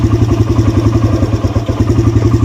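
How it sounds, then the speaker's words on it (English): A clutch-equipped dirt bike idles in gear after a downshift, its single-cylinder engine thumping in a quick, steady loping rhythm, loud and close with no talk. "You hear it idling different than it usually does?"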